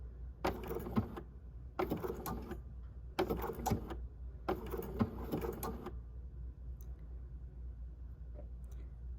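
A sewing machine stitches an appliqué piece slowly, running in four short bursts of rapid needle clatter with brief pauses, then falls quiet.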